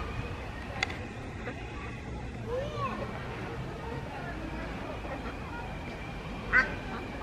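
Ducks quack now and then amid a noisy outdoor background of murmuring voices and distant traffic; the calls are moderately faint, with one louder quack near the end.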